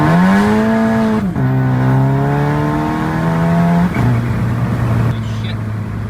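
A VW MK6.5 GLI with an IS38 turbo swap and traction control off pulls hard in 2nd gear from 20, its loud, close engine note climbing steadily with brief dips before rising again.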